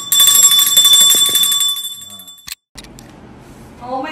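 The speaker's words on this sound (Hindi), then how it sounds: "जब ये घंटी बजा तो स्माइल करने का" A bell in an office rings brightly for about two seconds with sustained metallic ringing tones, then fades and cuts off, followed by quieter room sound.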